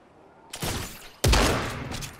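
Two sharp gunshot bursts in Fortnite, one about half a second in and a louder, heavier one just past a second later, each trailing off quickly.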